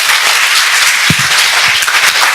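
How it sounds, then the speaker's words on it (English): A student audience at a Cambodian school speech contest gives a loud, close round of applause, a dense, continuous roar of many hands clapping that fills the whole two seconds. "If yes, please give a round of applause."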